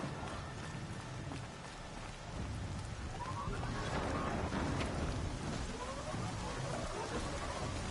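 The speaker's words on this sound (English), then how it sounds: "And there's the rain." Steady rainfall in Horizon Zero Dawn, a constant hiss of drops with a low rumble beneath, swelling slightly louder partway through, heard alone at moderate level.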